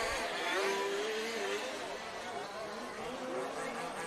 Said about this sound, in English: Someone out there has a very loud exhaust.